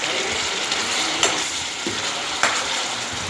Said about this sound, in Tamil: அதை போட்டுட்டு அடி பிடிக்காமல் கொஞ்சம் வதக்கிக்கலாம்